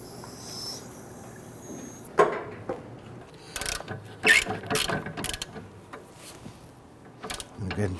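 A wrench tightens the CV axle nut on a 2008–2013 Infiniti G37 during a front driver's side axle replacement, with quick ratcheting clicks and metallic clanks in irregular bursts up close, no speech.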